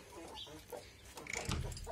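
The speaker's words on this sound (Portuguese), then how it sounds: "O frango e a galinha." Chicken clucking nearby in a backyard coop where a rooster and hen are kept, a few short soft clucks ending in a louder burst.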